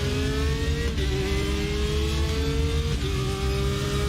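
Porsche race car engine in the RaceRoom racing game, revving high and loud with steady rising pitch, two brief dips as gears shift, no talk.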